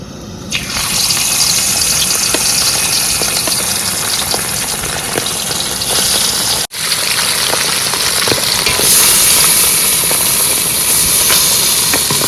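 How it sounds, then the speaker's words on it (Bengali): Fish frying in hot oil in a wok gives a loud, steady hiss and roar of sizzling, with a short break before the spitting rises again. It sounds close and continuous, with no voices. "তেল গরম হয়ে গেছে এবার মাছ দিয়ে দেবো"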